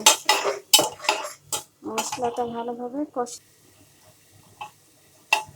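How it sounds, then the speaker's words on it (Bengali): A spoon clanks and scrapes in a pot while spice masala with turmeric, chilli and salt is stirred. Bursts of rhythmic clatter are interrupted by someone talking, followed by a quieter stretch with a couple of isolated clinks. "আর হলুদ মরিচ লবণ এগুলো দিয়ে ভালোভাবে মশলাটাকে কষিয়ে নেব"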